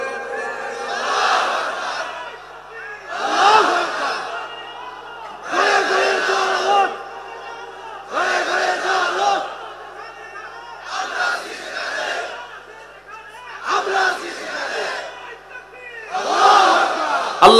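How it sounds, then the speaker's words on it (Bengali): At an Islamic sermon gathering, a large crowd roars a slogan in unison, seven loud rhythmic bursts of massed voices spaced about two seconds apart with brief lulls between them. "এই যে স্লোগান দিলাম, এটা মুসলমানের স্লোগান, এটা ইসলামের স্লোগান।"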